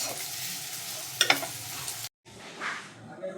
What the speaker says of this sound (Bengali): নুন দিয়ে আরও একটু ভেজে নেব।